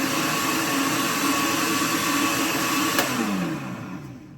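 A blender roars at high speed with a dense whine while making homemade hot sauce, then winds down near the end; no voices.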